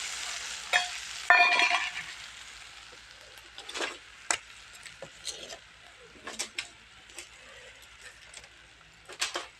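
Yogurt is stirred into a sizzling tempering in a pan for a Kathiyawadi-style Gujarati drumstick curry, with scraping spoon strokes and sporadic clinks over a soft, steady sizzle.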